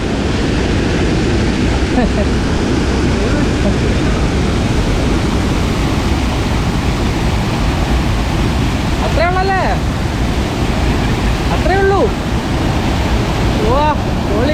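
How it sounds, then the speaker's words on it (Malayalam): A waterfall at Aruvikkal in Kottayam, Kerala pours with a loud, constant roar, with wind buffeting and a few brief calls in the background. "അങ്ങനെ നമ്മൾ വെള്ളച്ചാട്ടത്തിൽ എത്തിയിരിക്കുകയാണ്"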